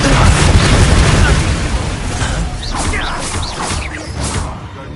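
Confringo and Flipendo spells fire in Hogwarts Legacy: loud booming blasts and crashing bursts in quick succession, mixed with shouted voices and swooshing effects.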